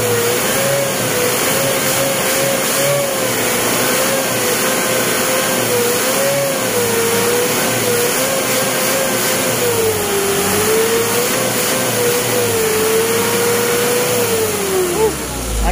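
Car engine treated with Aero Magic Guard additive revs steadily, a loud mid-pitched hum that wavers up and down in pitch across a long stretch, with faint voices in the background.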